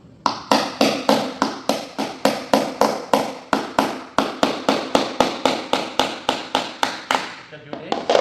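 A chisel taps on a laminate floor plank in a room, with about twenty crisp, evenly spaced knocks that ring out loud and close in a steady rhythm.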